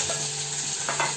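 Onion, chili, garlic paste and spices such as cumin, mustard seed, garam masala and turmeric frying in oil for an Indian dish, with a steady close hiss and brief scrapes of stirring, no voices.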